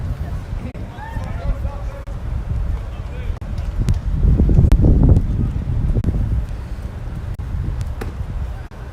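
Wind gusts across an outdoor baseball field during a varsity game, a broad rushing roar that rises in the middle and settles again, with distant crowd babble underneath.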